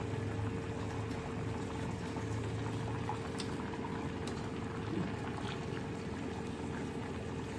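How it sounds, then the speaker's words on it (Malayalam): Thick Kerala erissery curry with coconut boils steadily in a pot, a continuous close bubbling and simmering hiss with no pauses. "നല്ലപോലെ ബോയിലാവണം"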